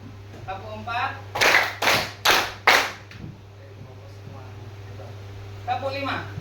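Group of people clapping a short rhythm pattern in a classroom exercise: four sharp, loud, evenly spaced claps in quick succession, with a teacher's voice speaking before and after.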